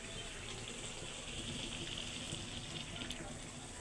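Water is poured into a pot of beef tripe being cooked, a steady rushing splash that runs unbroken for a few seconds, fairly close and alone with no talk.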